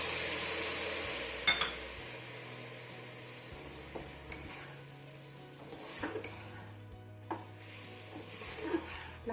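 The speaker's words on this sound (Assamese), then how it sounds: "লাহে লাহে লৰাই দিম।" Ginger juice stirred slowly into pulao rice in a pressure cooker, a quiet scrape of the spoon against the metal pot, with soft clinks and a low background hum.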